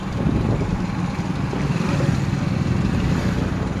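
A motorcycle rides slowly through a crowded town street on Diwali night in Katihar, its engine a steady, close drone that carries through the clip with no talking.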